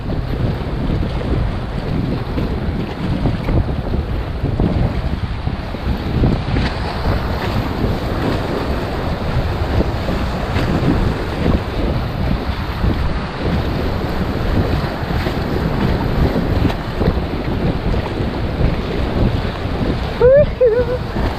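An inflatable kayak runs a long river wave train on the Rio Grande Racecourse, with continuous loud rushing water and wind buffeting the microphone throughout.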